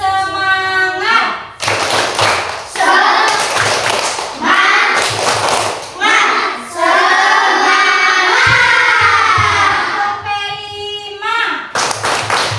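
Schoolchildren in an Indonesian classroom perform a rhythmic spirit clap, with crisp bursts of clapping in patterned groups alternating with loud voices chanting and shouting together between the claps.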